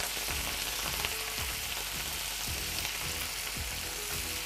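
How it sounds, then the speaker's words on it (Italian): Meat rolls in a pan deglazed with water, giving a continuous steady sizzle and bubbling with faint stirring scrapes, close and fairly quiet, with no talking. "A questo punto sfumiamo con un po' di acqua, semplice, ok?"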